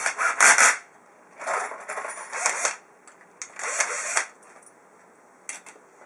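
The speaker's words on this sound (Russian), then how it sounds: "Собственно, шуруповерт, конечно же, рулит при сборке щитов." A cordless screwdriver tightens YXD10 breakers mounted on a DIN rail in a switchboard, giving several short, bright whirring bursts of about half a second to a second each, close by, separated by quiet gaps.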